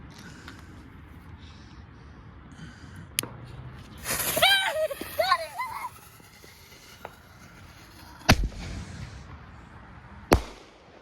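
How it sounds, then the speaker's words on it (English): Firecrackers set off outdoors: several sharp, loud bangs spaced seconds apart, with a fizzing, crackling burst of pops in the middle, against a quiet background. "you just have to lift this firecracker right now"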